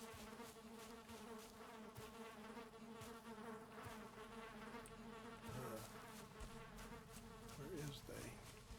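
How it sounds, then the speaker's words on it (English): Bees in the Valheim video game buzz in a steady, continuous drone that lasts throughout, with a few louder swells near the end and faint voice-like tones mixed in. "Bees, more bees."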